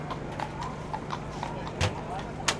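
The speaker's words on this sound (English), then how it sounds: "We've got people riding the horse and buggies as well." Horse-drawn buggy on a busy New York avenue near Central Park, hooves clip-clopping in a steady faint rhythm under street ambience and traffic noise.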